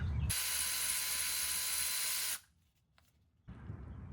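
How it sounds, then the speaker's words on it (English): A ratcheting tool works on the drive shaft bolts of a Jeep Wrangler JK, a long continuous loud mechanical whir that stops abruptly, then a short quiet gap before a lower rumble resumes. "I'm going to go ahead and just loosen with the wrench maybe half a turn each one of these before I go ahead and put my socket on"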